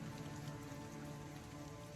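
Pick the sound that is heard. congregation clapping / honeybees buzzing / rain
rain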